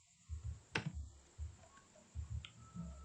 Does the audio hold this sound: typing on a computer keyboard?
yes